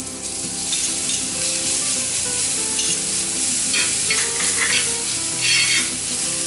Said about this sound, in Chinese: 用这个锅子我们来炒洋葱，继续炒。